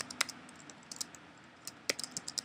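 Keys clatter on a computer keyboard as a short command is typed, quiet and close, in small bursts of clicks with brief pauses between them.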